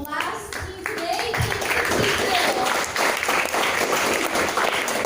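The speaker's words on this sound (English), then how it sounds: "let's give a big round of applause to the last team today" Audience at a Malaysian lawtech hackathon in 2018 applauds the last team of the day: a dense, loud wash of many hands clapping that fills the room, with voices and cheers mixed in throughout.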